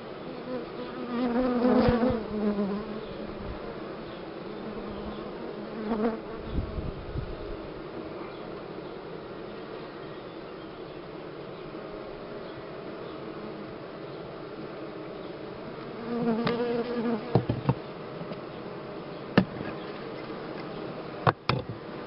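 Honey bees from a colony with laying workers buzz steadily around an open hive, a continuous close hum that swells in spots, with occasional clicks and knocks of handling.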